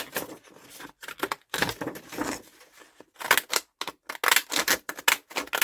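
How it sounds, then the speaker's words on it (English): Deckle edge scissors cut through printed paper in a series of crisp, crunchy snips, close and fairly loud, coming in uneven bursts with short pauses between cuts. "I love these scissors, but they're not half noisy."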